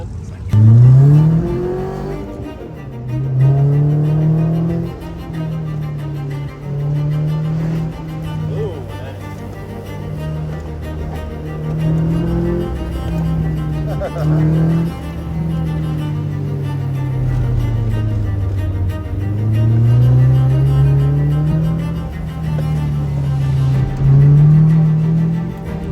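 A K-swapped 1991 Honda Del Sol runs an autocross course. Its engine sounds loud and close, revving up and falling back again and again as it accelerates and brakes through the turns.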